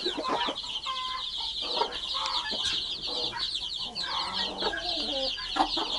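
Broody hens cluck low and steadily near a crowd of chicks peeping continuously in high, bright chirps, all close and fairly loud.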